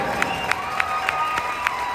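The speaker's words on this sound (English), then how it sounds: "how about another big round of applause for these two great teams" A hockey rink crowd applauding the Leafs and Dragons at a championship game, steady clapping and cheering with a sustained tone and regular sharp claps throughout.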